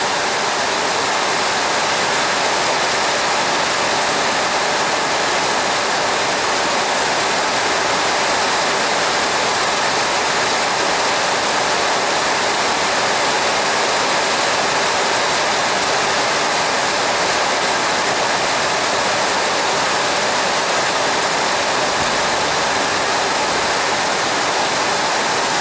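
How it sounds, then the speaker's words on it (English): Water pours and drips off a leaking carport roof as a loud, dense, unbroken rush that stays steady the whole time, with no talk. "Dripping there, and still dripping there."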